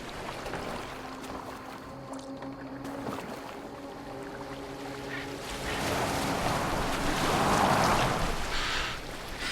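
Boat gliding across water in Assassin's Creed Valhalla, a steady wash of water and hull noise under game music, swelling louder with rushing splashes toward the end.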